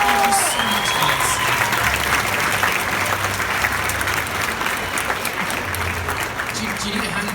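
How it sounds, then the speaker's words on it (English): Dense, loud applause fills a comic con panel room, a steady roar of many hands with crowd noise and voices talking over it throughout. "One more round of applause, please, guys."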